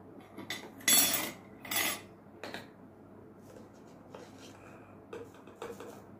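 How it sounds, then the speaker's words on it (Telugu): Leftover idli batter is stirred with gram flour and salt in a bowl, giving a few loud spoon-scraping clatters at first, then softer intermittent scraping and taps, close by with no speech. "సో ఇవి బాగా కలిపేసుకోవాలి."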